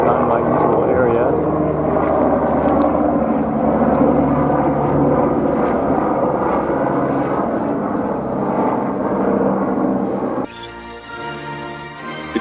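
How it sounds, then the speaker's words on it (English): A helicopter passes by, its steady rotor and engine drone filling the air, loud and continuous for most of the time before dropping off abruptly near the end, with a voice talking over it. "Helicopter flying by."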